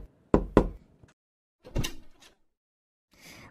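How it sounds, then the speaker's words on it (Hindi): Knuckles rap on a house door: two sharp, close knocks, a pause, then a quicker flurry of softer raps, followed by a faint rustle. "उसी वक्त किसी ने दरवाजा खटखटाया।"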